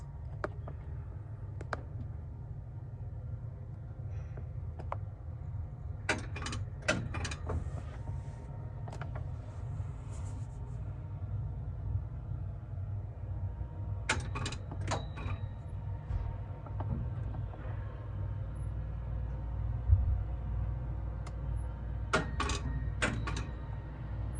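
A tiny 1948 Montgomery service elevator in Evanston, Illinois runs with a low, steady mechanical hum, punctuated by clusters of sharp clicks and clacks from its doors and gear, fairly quiet and without speech.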